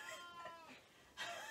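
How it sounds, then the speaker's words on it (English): A cat meows indoors in a couple of drawn-out, fairly quiet calls, the last one louder and brighter, with no one speaking over it. "That is the noisiest cat ever."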